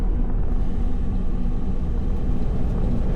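Steady low road rumble from inside a car stuck in traffic on the way to urgent care, a continuous engine and tyre drone with no talking.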